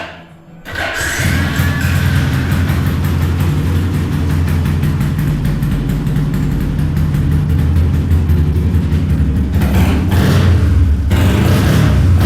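A motorcycle engine converted to fuel injection idles steadily and close, a low even rumble with a faint rhythmic pulse that stays constant throughout.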